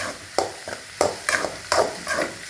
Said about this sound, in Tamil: இதை நல்லா வறுக்கணும்